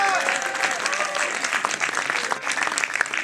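An audience applauds at a tenth-anniversary evening of the CAP in Aulnay-sous-Bois. The clapping is dense, sustained and fairly distant, with voices carrying over it throughout.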